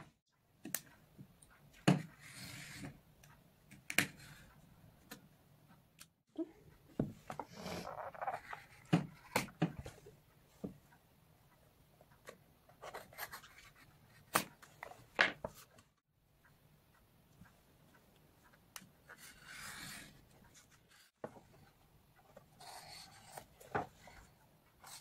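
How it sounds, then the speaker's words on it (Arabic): Scissors snipping through paper calendar pieces at a home craft table, a series of scattered crisp cuts and rustles, close and fairly quiet, with pauses between bursts. "تعالوا نقص دي، انا هقص العلامه دي والعلامه دي"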